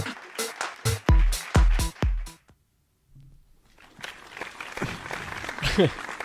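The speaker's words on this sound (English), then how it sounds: "please hold your applause" A small studio audience at the opening of a comedy podcast claps in several sharp bursts, then goes quiet before broad applause and cheering swell up again, with voices mixed in.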